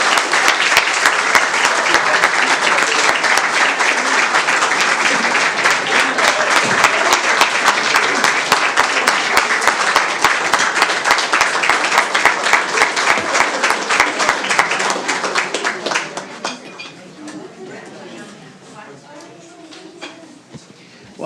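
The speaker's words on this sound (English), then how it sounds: "Please give a warm round of applause to council members vacating their seats." Sustained audience applause at a city council meeting in Heath, dense and steady for about fifteen seconds before tapering off to scattered claps and quiet room noise.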